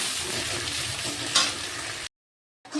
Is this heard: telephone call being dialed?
no